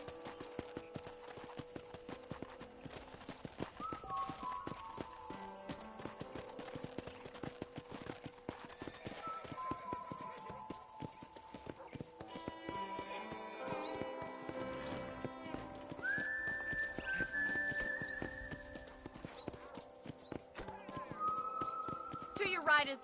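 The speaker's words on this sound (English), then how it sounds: "let's see if you can still ride a horse" Steady clip-clop of horse hooves runs through the whole stretch of ride in Red Dead Redemption, with an occasional whinny, while a character speaks over it and game music plays underneath.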